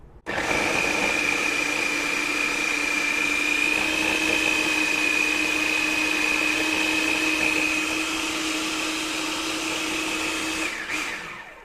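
A blender whirs loudly and steadily as it purées English cucumber for agua fresca, a sustained motor whine lasting about ten seconds before it winds down abruptly.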